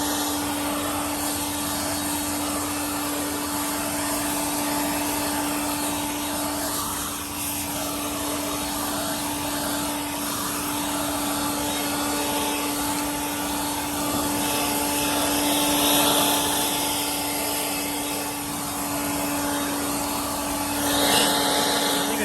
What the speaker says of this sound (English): Notice a little bit is slowing down.